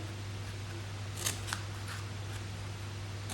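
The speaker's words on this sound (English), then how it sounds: "we are just going to snip up each of the lines until we get to that 1/2 inch line" A few quick scissor snips cut along score lines on a small paper chocolate gift box, with two or three crisp cuts over a steady low hum and no talk.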